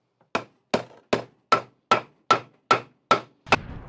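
Hammer blows from a cheap $4 plumber's hammer driving a nail into a wooden board, eight sharp, evenly spaced strikes about every 0.4 seconds, loud and close, with a slightly different final impact.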